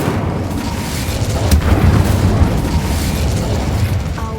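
A blast of the Incendio fire spell in Hogwarts Legacy: a steady, heavy rumbling roar of flame with a sharper boom around the middle, loud and close throughout, with no talking.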